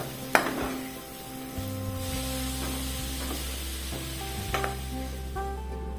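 Jackfruit pieces fry in ghee in a pan, giving a steady, soft sizzle with occasional stirring scrapes and light clinks, close and continuous without talk.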